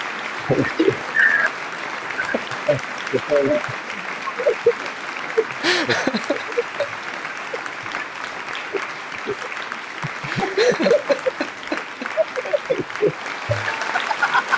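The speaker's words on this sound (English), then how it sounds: "They're still cheering for you." A studio audience keeps up continuous applause and cheering for guests Lewis and Michelle, steady and fairly loud across the whole stretch, with scattered voices and whoops rising through it.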